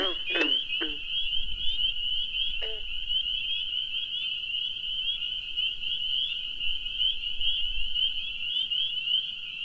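Spring peepers and green frogs calling in the evening, a shrill continuous high peeping chorus with a few sharp twangy croaks near the start, steady and fairly close.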